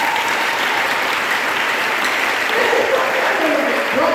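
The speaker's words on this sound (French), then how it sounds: "On acclame le Seigneur." A church congregation applauds to acclaim the Lord, a loud, dense and steady wash of many hands clapping together that continues throughout.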